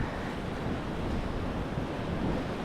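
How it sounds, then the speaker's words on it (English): Waves crash against the rocks on a shore, making a steady, loud roar mixed with heavy wind noise on the microphone. "This is where like the waves hit the rock."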